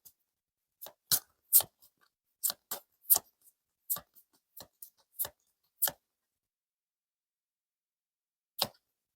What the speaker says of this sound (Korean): 카드를 한 번 더 뽑아보도록 하겠습니다.